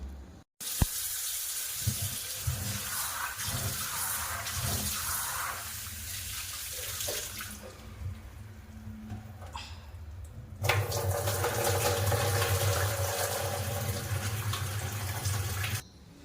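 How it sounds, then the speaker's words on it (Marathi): Soaked chickpeas being washed under running water: a steady splashing flow of water fills a vessel, growing louder and fuller partway through, and continues for about fifteen seconds. "बघा आता मी व्यवस्थित धुवून घेतले"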